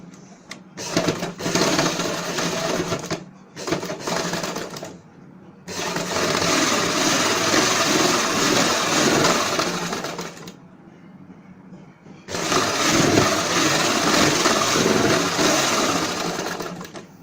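Electric sewing machine stitching a salwar in bursts of rapid, even whirring, each run lasting several seconds and separated by short pauses, loud and close.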